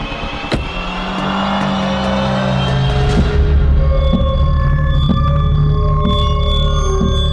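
A car engine idles with a steady low rumble and a bright tonal whine, revving up and holding loud and close; sharp clicks and knocks punctuate the hum, with no talking.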